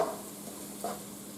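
Garlic sizzles faintly in a hot pan with vegetables, a soft, steady frying hiss with two brief stirring scrapes.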